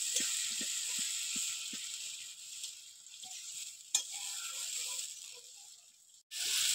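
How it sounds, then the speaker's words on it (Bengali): Gravy for bottle gourd kofta curry bubbles in a pan with a steady hiss and a scatter of soft pops, close by, ending with a brief clatter. "দেখুন, ঝোলটা ফুটে উঠেছে।"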